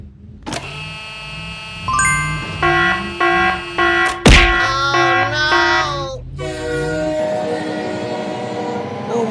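A train passes in the BeamNG video game, sounding its horn in several loud, stuttering blasts over a deep rumble, then holding a long, steady horn tone as the train goes by close.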